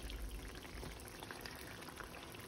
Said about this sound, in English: I am now going to add that into my pot.